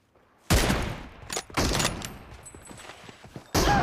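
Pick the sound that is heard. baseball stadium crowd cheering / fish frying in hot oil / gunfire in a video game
gunfire in a video game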